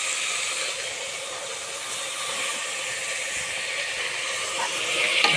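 Finely chopped tomatoes fry in oil in a home kitchen, giving a steady, fairly loud broad hiss and sizzle throughout with no talk.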